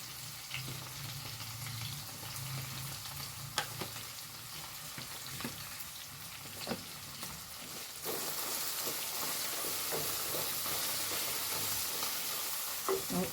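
Okra dusted with turmeric fries in hot oil with a steady, close crackling sizzle that turns noticeably louder and denser about halfway through, with no voices over it.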